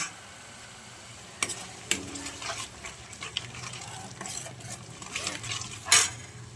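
Ginger garlic paste, added alongside tomato puree, frying and stirred in a pan, with a steady low sizzle, spoon scrapes and clinks against the pan, and a sharper clatter near the end.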